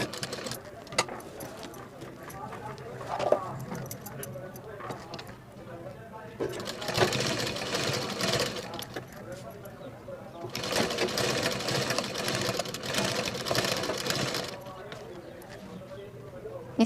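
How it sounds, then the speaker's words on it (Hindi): A sewing machine stitches lace onto a blouse, running in two sustained bursts of rapid, even whirring separated by pauses, while someone talks between and over the stitching. "इस तरह से हम पूरे में लेस को स्टिच कर लेंगे।"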